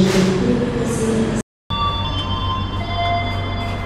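Inside a KA Parahyangan passenger carriage, a steady rolling rumble and hum of the moving train fill the space, broken by a brief cut, with thin high tones from the carriage running underneath.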